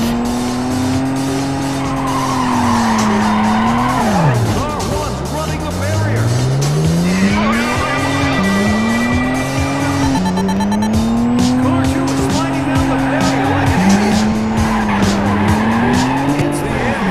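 A car drifting around a barrier at a Hot Import Nights event, its tires squealing loudly in long wavering sweeps while the engine revs rise and fall, with several repeated bursts and a voice talking over it.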